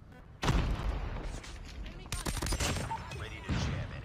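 Heavy shotgun blasts in Call of Duty Mobile, loud booming shots with echoing tails amid chaotic match noise, while a player talks excitedly over the action.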